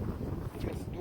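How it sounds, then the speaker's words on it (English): Wind blowing at an outdoor park: a continuous low rumble and buffeting across the microphone, with people talking over it. "It's getting kind of windy."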